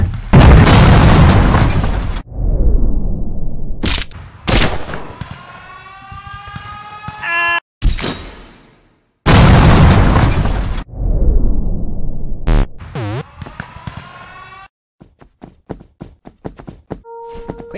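Gunfire and explosions from the Henry Stickman video game: loud booming blasts and bursts in rapid sequence, with rising siren-like tones and sharp pops, all close and dominant with no talk.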